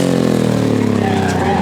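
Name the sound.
Morgan three-wheeler twin-cylinder engine racing at a hillclimb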